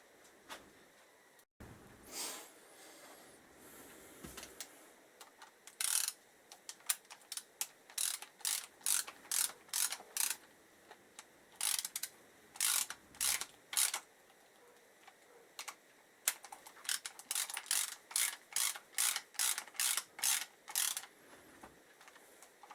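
A ratchet tightens nuts on the back of a 1977 Kawasaki KZ650 front brake caliper during a rebuild, heard as close, quiet bursts of rapid clicking in repeated short strokes, separated by brief pauses.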